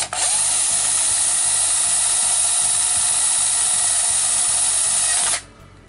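A high-pitched power drill whines steadily for about five seconds, close and loud, boring through a printer ink cartridge, then cuts off abruptly.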